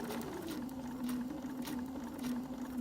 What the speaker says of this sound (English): my machine is going to tack for me at the beginning. I'm going to sew along the template